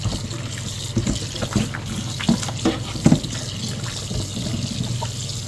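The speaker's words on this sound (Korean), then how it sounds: "빨판 사이사이에 남아있을 염분들을 깨끗하게 흐르는 물로 씻어주고요" An octopus is rinsed by hand under running tap water to wash salt from between its suckers, a steady near stream of water with irregular splashes and sloshing, no talking.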